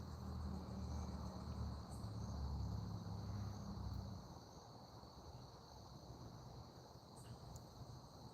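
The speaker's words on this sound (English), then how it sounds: "they could hear the crickets and the bugs" Crickets and other insects chirp steadily in an open field at night, a faint continuous high trill with low wind rumble that is heavier during the first half and then eases.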